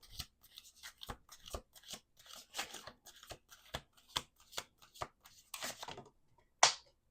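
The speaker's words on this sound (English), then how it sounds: "One last shuffle." Playing cards being shuffled by hand, a run of sharp riffling bursts and snaps in a quiet room, ending with one louder crisp flutter.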